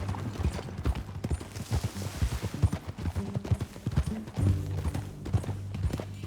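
A horse gallops in the Red Dead Redemption 2 video game, its hooves pounding in a fast, steady clip-clop rhythm that stays close and prominent, with no talk over it.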